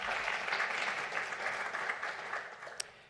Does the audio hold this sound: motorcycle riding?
no